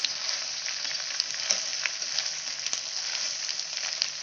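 Spinach rice (palak pulao) sizzles softly and steadily in a pan, a continuous frying hiss with faint crackles and no voices.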